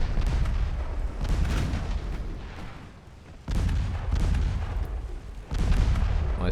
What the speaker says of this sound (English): my secondary guns are happy to see you